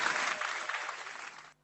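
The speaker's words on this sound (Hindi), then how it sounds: "जोरदार तालियां।" Brief applause during an online insurance training session, a burst of clapping lasting under two seconds that cuts off abruptly into near silence.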